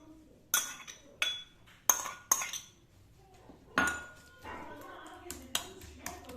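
A metal spoon stirs fried onions into fish qorma in a pot, striking the rim in sharp, ringing clinks at an uneven pace, followed by softer scraping.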